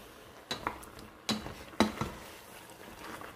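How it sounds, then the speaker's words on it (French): A spoon stirring couscous vegetables in a pot gives a few sparse, quiet clinks and scrapes against the metal, spaced out over a near-silent kitchen background. "après 2 minutes, je vais mélanger le tout"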